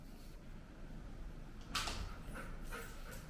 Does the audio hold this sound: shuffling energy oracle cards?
no